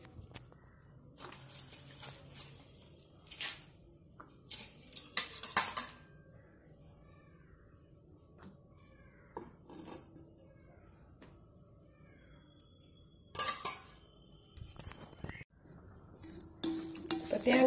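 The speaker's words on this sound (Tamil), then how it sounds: "தேங்காய் சேர்த்து வறுத்துக்கலாம்" Coconut roasts in an iron kadai, with bursts of scraping and clinking as a ladle stirs it against the metal, separated by quieter stretches where faint sizzling and distant bird chirps come through.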